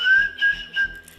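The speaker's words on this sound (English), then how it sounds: "The short whistle sound like this" A person whistles a short, steady high warning note close by, repeated in a few quick pulses with no talking.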